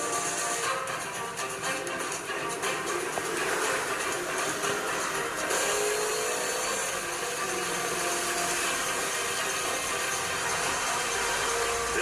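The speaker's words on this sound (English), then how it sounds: "This technician uses a dynamometer, a special machine that measures engine power and performance to run each new bike through its paces" A new motorcycle engine runs steadily on a dynamometer in a factory, giving a loud, continuous mechanical whir and drone that holds throughout with no pauses.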